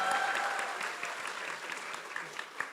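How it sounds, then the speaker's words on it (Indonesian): Steady applause from a crowd at an Indonesian political event, a dense patter of clapping that holds throughout with a few louder claps standing out. "Boleh tepuk tangan untuk Pak Tom."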